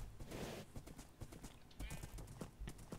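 Horse hooves clip-clop in the Minecraft video game, a quick irregular patter of close, fairly loud steps running through the whole stretch alongside other game sounds.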